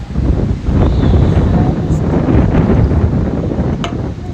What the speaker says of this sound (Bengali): চতুর্দিক দিয়ে জানালা টানালা হচ্ছে বৃষ্টি পড়ে আর অনেক বাতাস আরো অনেক বৃষ্টি হবে